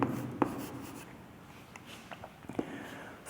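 Pen scratching on paper while working a sum, soft quiet strokes with a few small taps, heard close and alone.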